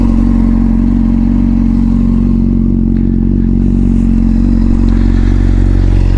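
A 2005 Honda CBR600RR sport bike being ridden, its engine droning steadily and loudly under heavy road and wind rumble throughout, with a slight rise in revs partway through.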